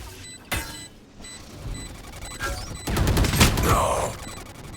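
Gunfire bursts out in a competitive Valorant match, sharp shots and rapid volleys with mechanical clatter, growing louder and denser toward the end amid game sound effects.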